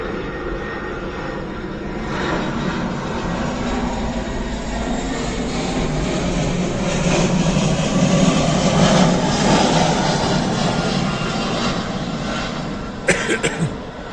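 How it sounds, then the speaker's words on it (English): Aeroplanes fly overhead with a loud, steady rumbling roar that fills the whole stretch, swelling slightly toward the middle before easing, with a brief sharp knock near the end. "You know, the aeroplanes,"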